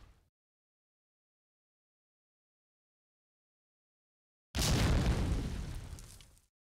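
A loud explosion bursts out after a long silence, its rumble fading over about two seconds, fitting a grenade blast in the shooter game Medal of Honor: Allied Assault.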